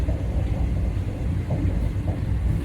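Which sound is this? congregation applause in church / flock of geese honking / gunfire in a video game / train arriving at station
train arriving at station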